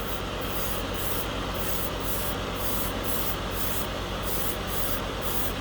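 Airbrush with a 3 mm needle spraying thinned Revell enamel paint at 20 psi, a steady close hiss with rhythmic pulses as the trigger is worked, heard alone.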